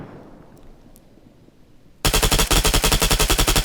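Loud automatic gunfire in Arma 3, a rapid burst of about a dozen evenly spaced shots starting abruptly after two seconds of quiet ambient background.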